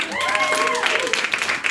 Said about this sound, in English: give the show a round of applause